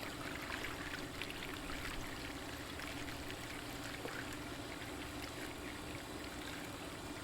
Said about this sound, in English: Just pour off the dirty water, not too violently.